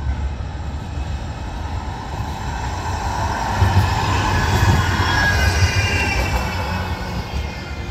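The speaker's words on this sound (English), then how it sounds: "I'm going to have to wait for this tram to go past." A tram rolls past at Media City in Salford, a broad rumbling and hissing wash of wheels on rails that swells to its loudest midway and then eases off, heard alone without talk.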